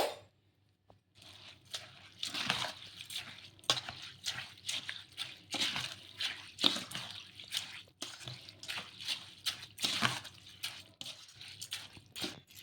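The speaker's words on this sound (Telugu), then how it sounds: "ఇలా నీళ్ళు అనేది కొంచెం చూసుకొని వేసుకోవాలి" Water being poured into batter and stirred by hand, with soft wet slaps and squelching strokes repeating in an irregular rhythm, close and quiet, no speech.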